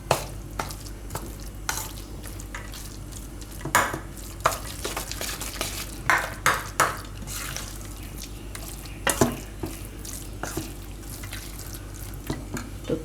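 Cucumber idli batter with salt, baking soda and a little oil is stirred by hand in a bowl. Wet squelching, scraping strokes repeat up close in an uneven rhythm, with no talking.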